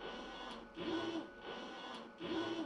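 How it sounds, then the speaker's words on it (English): A Univex meat slicer's carriage runs back and forth in automatic mode, making a steady mechanical whir that swells in two regular strokes, each louder pass ending in a brief clack, with no talk. "The carriage will begin moving back and forth."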